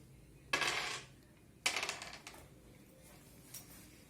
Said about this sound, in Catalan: l'Ernest tirarà els daus